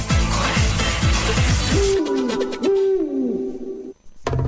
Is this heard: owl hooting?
yes